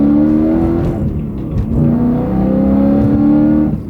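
A car with an S65 engine revs high, its engine note climbing and holding in bright sustained tones, dipping briefly mid-way before rising again, loud and close.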